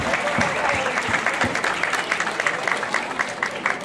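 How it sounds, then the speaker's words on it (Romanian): A studio audience applauds contestants at a Romanian event, dense sustained clapping heard close and fairly loud for the whole stretch, with a voice faintly audible beneath it. "să-i aplaudăm pe acești concurenți minunați"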